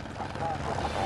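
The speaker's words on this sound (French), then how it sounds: "Les hélicoptères tournent en permanence sur le petit aéroport de Sion" A helicopter circles near the small airport at Sion in the Swiss Alps, its rotor and engine drone steady and fairly close, running under a voice.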